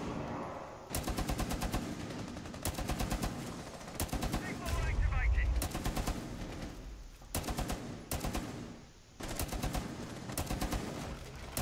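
Rapid automatic gunfire in Rainbow Six Siege during a House map team deathmatch, repeated loud sustained bursts separated by brief gaps, with a player speaking between volleys.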